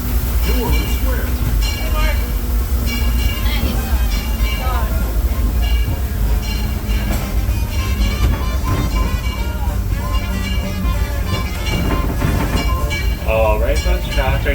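The Disneyland Railroad train, pulled by the steam locomotive Ernest S. Marsh, rolls loudly into New Orleans Square Station with continuous rumbling, rattling and metallic clinks. Talk and voices run throughout over the noise.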